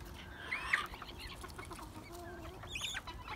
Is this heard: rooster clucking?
yes